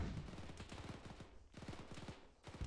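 Bursts of rapid gunfire from a war video game, two clusters of quick repeated shots separated by brief pauses, fairly close and steady, with no talk over them.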